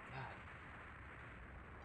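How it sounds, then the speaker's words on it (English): A blast from the Megaman Battle Network 2 video game, a single short burst at the start followed by a fading low rumble, loud and heard alone. "did they just blow him up?"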